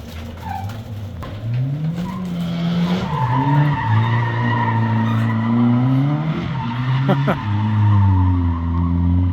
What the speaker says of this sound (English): somebody's burning out in the parking lot in front of me.